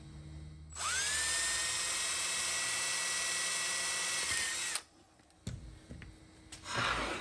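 A power drill bores a 1/8 inch hole into a CNC wasteboard, whining loudly and steadily for about four seconds before stopping, followed by brief clatter and handling noises.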